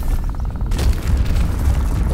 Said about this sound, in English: Whoa, some guy's got a rocket launcher.